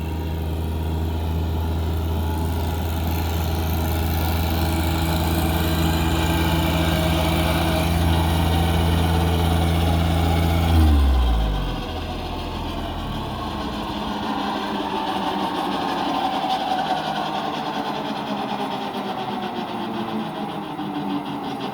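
A Titan DMWR135 54-inch drum mower runs on a hillside, its engine droning steadily and loudly, then dips in pitch as the blades bite in and it keeps a rougher, lower hum while cutting.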